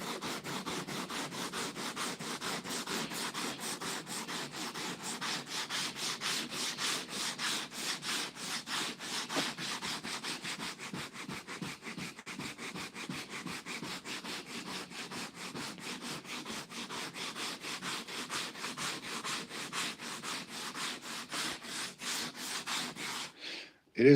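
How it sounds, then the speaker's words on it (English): Steady rhythmic sanding strokes rasp back and forth for a long stretch, a regular scratchy rubbing of a sanding block over primer on a Nissan S13 race dashboard, close and unbroken. "It is very important when you're doing final sanding to be using a sanding block."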